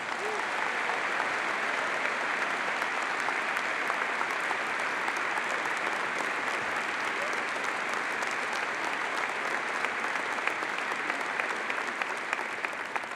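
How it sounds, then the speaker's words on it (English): An audience applauds participating students at a senator's address, a long, even roar of many hands clapping, continuous and full for over ten seconds with faint voices underneath. "I ask everyone here to join me in applauding you for participating"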